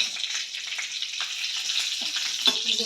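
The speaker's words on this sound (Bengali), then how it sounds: "ফোড়ন দিলাম একটু কালো জিরে ফোড়ন দেবো আর একটুখানি কাঁচা লঙ্কা ফোড়ন দেবো" Nigella seeds and green chilli tempering in hot oil, a steady bright sizzle with small crackles and a few spoon stirs near the end, close and moderately loud with no talking.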